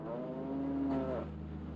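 A milking cow, exhausted from dairy production, lets out a single long, loud moo up close, its drawn-out low call holding steady before trailing off, with no one talking.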